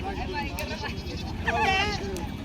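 A goat bleats at a village goat market in Kalamnuri taluka, Hingoli district, with a short wavering cry rising above a constant babble of nearby voices and crowd noise.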